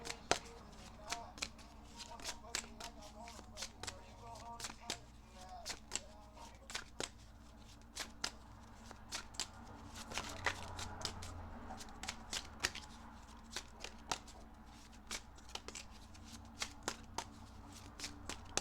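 Hands shuffle a deck of cards in a quiet room, sharp regular flicks and riffles repeating at a steady pace for the whole stretch, soft but close.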